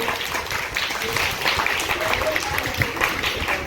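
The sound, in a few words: group clapping hands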